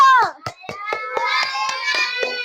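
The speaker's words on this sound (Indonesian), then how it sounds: "Beri tepuk tangan kelompok 5 dulu" Children in an elementary classroom clap for a group, sharp irregular claps over about two seconds mixed with a voice and classroom chatter.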